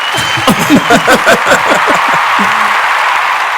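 An audience claps in a round of applause while voices talk and laugh loudly over it, the clapping a steady wash beneath the chatter.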